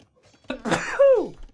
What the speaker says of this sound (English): talking about MBL just makes me sneeze